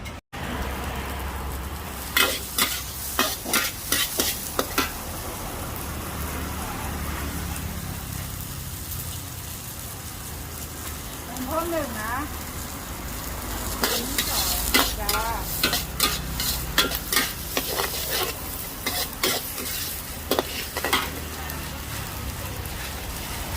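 Pad thai stir-fried at a street stall, with loud, steady sizzling and repeated sharp clatters of a spatula against the wok in bursts, quieter in the middle.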